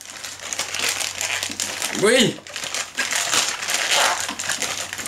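Packaging of a mailed parcel being ripped open by hand without scissors, giving crinkly crumpling and tearing noises with a sharper rip midway, close up, while a person speaks briefly.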